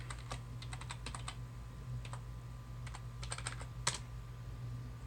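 A password is typed on a computer keyboard in quick, faint clusters of key clicks with short pauses between bursts, over a low steady hum.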